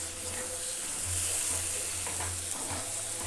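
Chicken kandan curry cooking in a pan makes a constant soft sizzle, with a low steady hum under it and faint stirring scrapes, close and even throughout.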